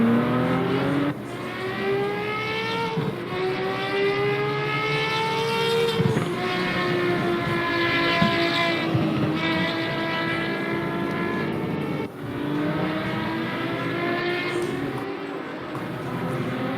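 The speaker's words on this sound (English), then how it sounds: "These cars are super loud and super gorgeous to listen to." Five-cylinder Procar race cars scream past during a practice session, several loud engine passes rising and falling in pitch one after another with sharp gear changes, fairly close and steady throughout.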